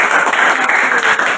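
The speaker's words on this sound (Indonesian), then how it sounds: "silakan tepuk tangan dulu" Brief classroom applause, a short, dense burst of clapping from students that lasts just over a second.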